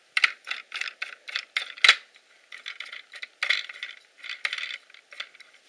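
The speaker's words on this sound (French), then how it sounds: "je vais ouvrir le coffre" Mechanism of a Lego-built safe being worked open, a rapid run of small plastic clicks and rattles in quick bursts, close and fairly clear, with no talk.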